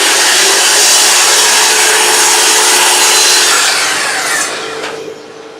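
Hand saw trimming tiny slivers off wood while cutting dovetails for an apothecary chest, a loud continuous rasping that fades slightly toward the end, with no talking.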